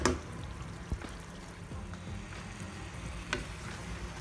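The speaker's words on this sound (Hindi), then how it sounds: "अभी मैंने इसमें बैगन का भरता डाल दिया अब इसकी मैंने अच्छे से भुनाई करनी है" Mashed brinjal bharta sizzles softly in a pan while being stirred, with a low continuous frying hiss and occasional spoon scrapes and taps, fairly quiet and close.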